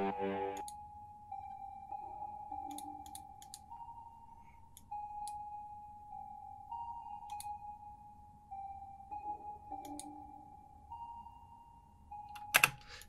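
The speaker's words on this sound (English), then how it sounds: "I added a lot of effects to this pluck, including this delay." A thin synth pluck plays a steady melodic line, each note trailing off into echoing repeats, with occasional sharp clicks and a louder burst near the end.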